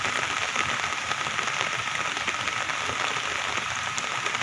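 Steady rain pours down during a flash flood in Santa Clara, a dense, continuous hiss of drops drumming on surfaces, loud and unbroken throughout with no voices.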